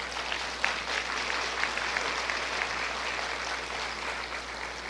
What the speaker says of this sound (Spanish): Úsalas y aplaude.